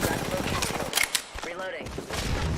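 Rapid video game gunfire bursts in a short, choppy exchange of shots, loud and close, mixed with other game effects.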